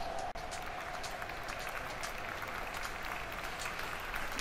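Sustained crowd applause from a FIFA 16 football match, a steady dense wash of clapping that runs evenly from start to finish with no voices over it.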